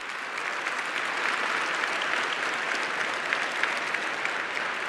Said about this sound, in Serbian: pozdravili su dugim aplauzom stojeći